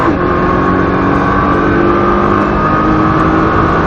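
A Nissan GT-R engine roars at full throttle, loud and close, a steady sustained drone with no break across the few seconds.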